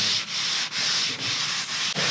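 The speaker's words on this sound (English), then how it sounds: "we're just sanding it smooth" Sandpaper rubs briskly back and forth across a wooden front door between finish coats in a steady rhythm of short strokes, a close, dry scratching with brief pauses between passes.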